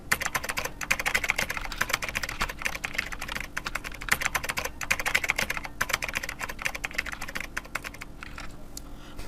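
Rapid clicking of a computer keyboard as an address is typed into an online job application form, a fast steady patter of close keystrokes with a short pause near the end.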